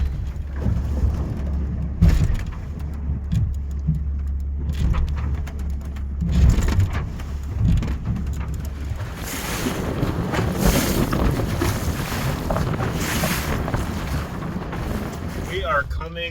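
Steady low engine drone of a shanty boat underway on the river near Davenport, Iowa, with wind buffeting the microphone and water rushing and splashing more strongly in the second half.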